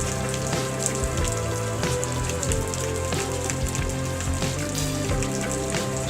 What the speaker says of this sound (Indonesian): air hujan membasahi seluruh bumi yang ada di tempat kami